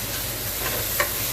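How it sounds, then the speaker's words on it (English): Onions fry and sizzle in a pan while being stirred, giving a steady close hiss with a few faint scraping clicks. "So we're going to keep stirring the onions"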